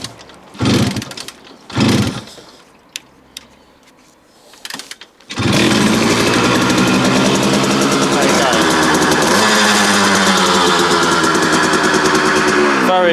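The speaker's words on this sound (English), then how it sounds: "So let's have another go at starting it up." A Kawasaki KH125 motorcycle with its choke on is cranked over with a few short bursts, then catches and settles into a loud, steady two-stroke running note that holds to the end, with slight throttle changes.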